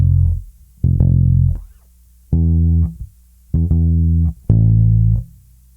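A bass guitar plays a song in context, a run of loud, sustained low notes in a steady rhythm with short gaps between them, each ringing alone and close.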